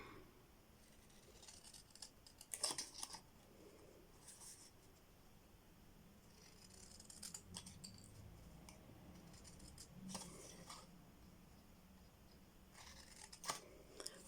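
Scissors snipping through card stock for a handmade happy-mail card, a few quiet, crisp cuts spaced apart at close range, with soft handling rustle between them and no talking.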